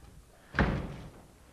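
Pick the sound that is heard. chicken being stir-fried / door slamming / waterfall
door slamming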